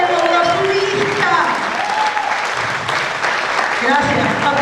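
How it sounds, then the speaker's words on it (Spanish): A church congregation applauds the performers during a Sunday service, a dense, steady wash of clapping that fills the room throughout, with a voice carrying faintly over it. "Aplaudan a los artistas"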